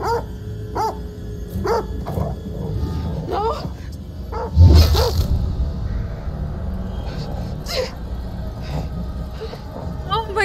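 Several short dog barks and yips from a horror video game, spread through the clip under steady game ambience, with a player's excited speech and a sudden louder hit near the middle.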